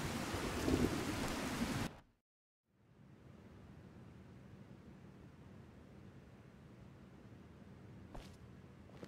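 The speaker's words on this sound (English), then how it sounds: "Oh, it's nice to be out of that rain." Steady rain with distant thunder in Skyrim, a loud burst that cuts to silence, then a softer even rain wash with a faint rumble near the end, no talking.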